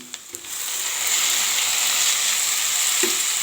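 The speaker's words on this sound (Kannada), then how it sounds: "ಟೊಮೆಟೊ ಜೊತೆಲಿ ಇನ್ನೂ ಒಂದು ಸ್ವಲ್ಪ ಈರುಳ್ಳಿ ಫ್ರೈ ಆಗುತ್ತೆ." Tomatoes and onion fry in a pan with a constant close sizzle that swells and then holds steady. A couple of light taps from a stirring spoon come near the start and once more near the end, and nobody talks.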